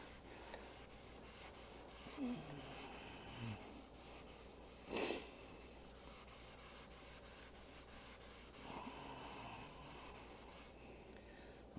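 Faint repeated rubbing strokes of scrubbing rust off a stainless steel appliance, a soft rhythmic rasp with one sharper scrape midway, quiet and unaccompanied by talk.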